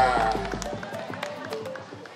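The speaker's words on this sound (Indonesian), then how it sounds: "Tepuk tangan dulu kita semua" Campus audience members at a faculty event in Indonesia clap their hands in a quick, steady rhythm while a voice carries on over the clapping, fairly close and moderately loud.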